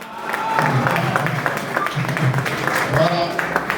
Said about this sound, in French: Applaudissez pour nos candidats.